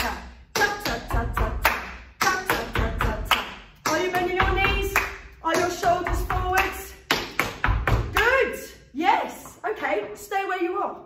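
Tap shoes striking a hard floor in quick rhythmic patterns of ball and heel steps, broken by sharp hand claps, close and crisp, while an instructor calls the steps aloud over the beats.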